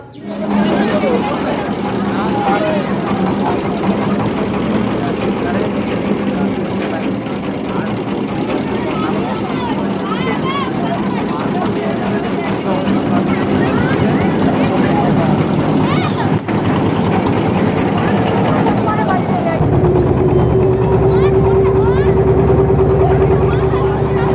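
A trawler boat's engine drones steadily and loudly on a river in rural Bangladesh as boats head to a village boat race, a continuous low rumble that deepens slightly near the end.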